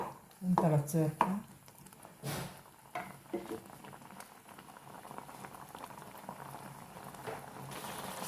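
Pineapple pachadi with a ground paste of coconut, cumin and pineapple bubbling in a pot, a soft steady simmer with wet plops and splutters, louder bursts early on, then a low continuous bubbling.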